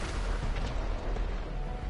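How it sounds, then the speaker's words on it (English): Fireworks exploding in the video game Fortnite, a dense, continuous barrage of booms and crackling bursts that fills the whole stretch without pause. "Oh, those are fireworks."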